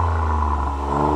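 Toyota Yaris GR engine revving in neutral, a steady mid-pitched exhaust rumble with a constant drone and slight rev variation, close and alone.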